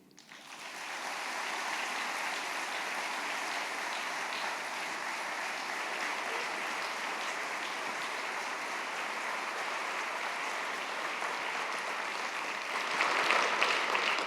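A conference hall audience gives a long, even round of applause at an opening address, a broad wash of clapping that holds steady for many seconds and lifts slightly near the end.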